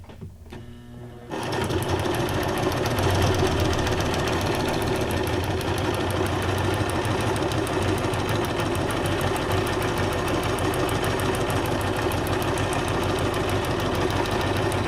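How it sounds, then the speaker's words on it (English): A sewing machine stitches through laminated paper, starting with a few slow clicks before settling into a loud, even, rapid mechanical whirring and chattering that runs continuously. "Tell you one thing about stitching on lamination is you'll definitely see if you make a mess on the back."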